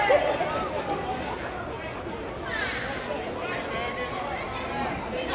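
A baseball stadium crowd reacts to an umpire's call at a Reno Aces game, a steady murmur of many voices and scattered shouts at moderate distance, rising slightly midway and holding without pause.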